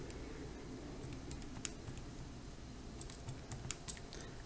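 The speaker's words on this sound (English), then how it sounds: "if I type that in my calculator" Quiet key presses entering numbers into a calculator, a few faint, irregular taps over low background hum.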